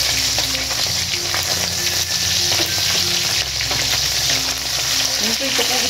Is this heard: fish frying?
yes